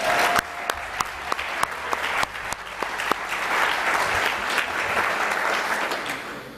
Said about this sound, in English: How about a round of applause for Sergeant Orcus?